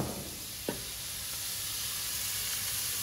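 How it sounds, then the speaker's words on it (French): Bacon lardons frying for bœuf bourguignon, a steady close sizzle with one brief knock of a utensil against the pan early on. "Donc là, on fait revenir notre lard"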